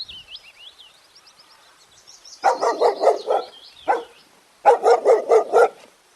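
A dog barks in two quick bursts of several sharp, close barks each, preceded by high whistling chirps, loud and clear with no talking over it.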